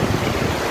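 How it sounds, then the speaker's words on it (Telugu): Water spills over a small lake weir like a waterfall, giving a steady, broadband roar that stays constant and close throughout. "నీళ్ళు ఎలా ప్రవహిస్తున్నారు ఆగకుండా"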